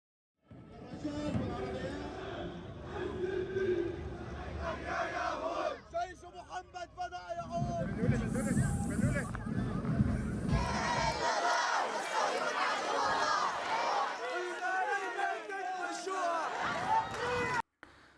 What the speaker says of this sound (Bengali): এদিকে ফিলিস্তিনিদের প্রতি সংহতি জানিয়ে বিক্ষোভ হয়েছে যুক্তরাষ্ট্র, ইউরোপ, মধ্যপ্রাচ্য ও এশিয়ার দেশে।